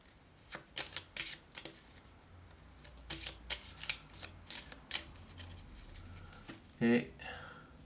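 Tarot cards shuffled and handled in short, irregular bursts of crisp flicks and slaps, close but fairly quiet, with a brief louder sound near the end.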